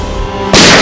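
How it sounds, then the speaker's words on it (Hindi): A sudden loud, sharp blast cuts in after a quiet stretch of low background hum, then rings on at full volume. "माँ जी, ये क्या गोली चलने की आवाज है?"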